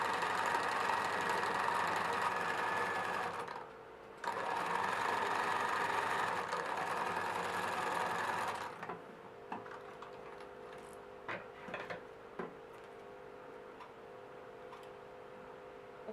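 A sewing machine stitches the hem of a jacket in two close, steady bursts of whirring and clattering, with a short pause between them. Quieter ticks and handling sounds follow after it stops.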